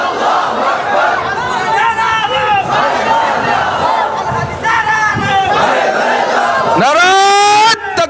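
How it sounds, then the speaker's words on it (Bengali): A large crowd at a political rally chants the takbir together in loud, rising, drawn-out unison cries, with shouting voices overlapping and a final long swelling shout. "কারা কারা একটু তাকবীর বলেন"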